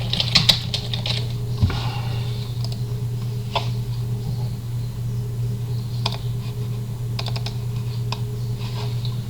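Someone typing on a computer keyboard, with scattered soft key clicks in short bursts over a steady low electrical hum, close by and with no speech.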